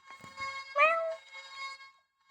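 A house cat meows indoors, one clear rising-and-falling meow of moderate loudness with faint rustling around it, no speech.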